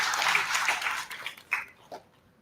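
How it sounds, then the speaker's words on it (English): Audience applause welcoming a speaker at an IEEE intelligent systems conference, a dense burst of clapping that fades out over about two seconds, with a few scattered claps trailing at the end. "Let's welcome her with a big round of applause."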